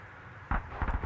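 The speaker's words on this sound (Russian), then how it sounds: "Вы наблюдаете снайперскую артиллерийскую стрельбу 2 дивизионов гаубиц Д-30" D-30 howitzers fire during a military parade demonstration in Kazakhstan, heard as a sharp distant boom followed by a few rumbling, echoing reports over open-air background noise.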